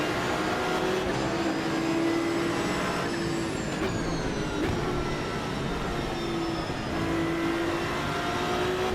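Porsche race car engine in Assetto Corsa Evo, heard at a standing start: a steady, sustained engine drone with a whining tone rising and falling through gear changes, continuous and fairly loud throughout.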